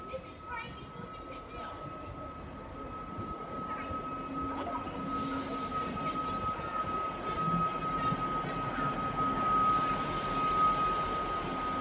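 A Class 158 diesel unit, 158783, on the Skegness to Nottingham service pulls into platform 2 at Sleaford with a steady rolling rumble, a thin sustained wheel squeal and occasional hissing bursts, growing slightly louder throughout.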